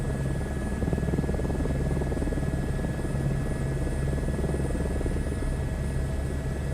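Helicopter flying in the video game Microsoft Flight Simulator 2024, a loud, steady rotor drone with a rapid rhythmic chop and a constant engine whine, no talking.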